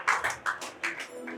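Scattered guests clap at a wedding during the cake cutting, a few uneven, moderately loud bursts of hand claps in a room rather than sustained applause.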